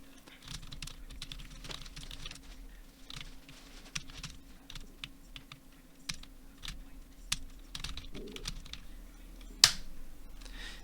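Irregular computer keyboard keystrokes while a command is entered, a steady run of light clicks over a low hum, ending in one sharper, louder key press.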